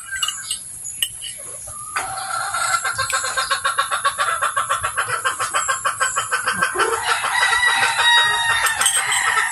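Chickens cluck in a rapid, rhythmic series close by, with a rooster crowing at points against steady farmyard background noise.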